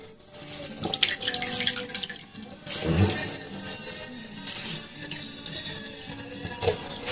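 Water is strained by hand out of soaked food in a home kitchen, giving splashing, pouring and dripping sounds in uneven bursts at close range.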